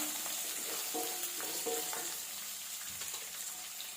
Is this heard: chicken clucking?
no